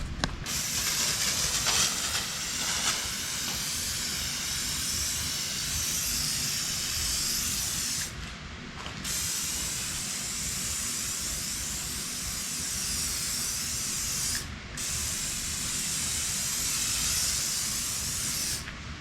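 Aerosol can of WD-40 sprayed onto stripped plastic body panels of a small Yamaha quad, a close, steady hissing that runs almost continuously with two brief breaks.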